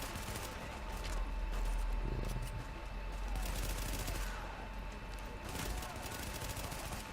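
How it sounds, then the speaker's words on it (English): Bursts of automatic gunfire and rapid shots crackle through a firefight in The Division, fairly faint and spread across the stretch with a few louder volleys, no talking. "I'll just let this gunfight play out a little here."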